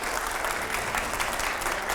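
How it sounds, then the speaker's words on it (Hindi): A live studio audience at a Hindi political talk show claps in a steady, dense burst that carries evenly through the short moment. "जरा जोरदार तालियां प्लीज"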